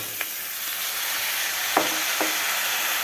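Potatoes frying in a pan with softened vegetables, a steady sizzle broken by a few sharp scrapes of a spoon stirring, close and fairly loud, no talking.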